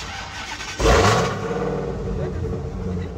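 Jeep Trackhawk engine cranking and catching at startup, a sudden loud burst that settles into a steady rumbling idle, with background voices nearby.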